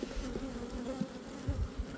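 Honeybees swarm around an open hive during a beekeeper's inspection, giving a steady, close, low buzzing drone with no one talking.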